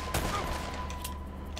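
Bursts of gunfire in the video game Uncharted: Drake's Fortune, a sharp close shot early on over a steady game soundscape with a constant tone, then a few fainter reports.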